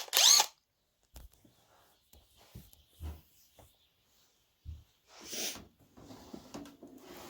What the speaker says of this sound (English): With my fancy little Bosch drill.